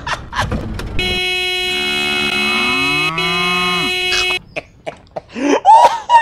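A bus horn blares in Bus World at cows in the road, one long steady honk lasting about three seconds, followed by cattle mooing close by and some scattered shouting.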